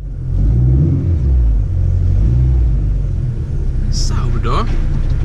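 A car pulls away nearby with a deep, loud engine rumble that holds steady for several seconds before a brief higher rattle near the end, with no talk over it.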